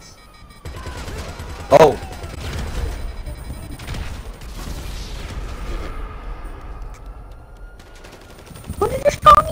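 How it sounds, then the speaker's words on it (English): Gunfire in GTA 5 crackles in sustained bursts with sharp loud spikes near the start and end, a dense mix of rapid shots and booms, while a man briefly exclaims. "why are you shooting your own teammates?"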